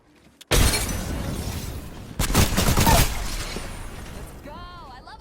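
Weapon fire in the video game Apex Legends, two loud bursts of rapid shots with a short pause between them, close and dense, followed by a fading tail and an electronic warbling effect.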